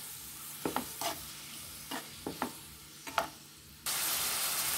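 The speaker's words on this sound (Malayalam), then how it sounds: "വേവിച്ച് വെച്ചിരിക്കുന്ന കുമ്പളങ്ങ ചേർത്ത് ഒന്നുകൂടെ നമുക്കിതൊന്ന് ഇളക്കിയെടുക്കാം." A spoon stirs cooked ash gourd into pachadi in a pan, giving several short scraping strokes spread across the clip over a quiet background, then a steady hiss at the end.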